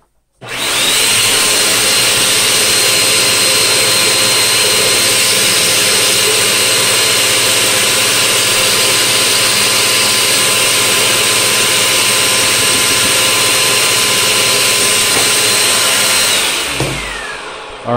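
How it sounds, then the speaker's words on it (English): A Bissell vacuum blows air out through its hose nozzle in a loud, steady roaring whoosh that lasts about sixteen seconds before cutting off abruptly. "First up shall be the Bissell."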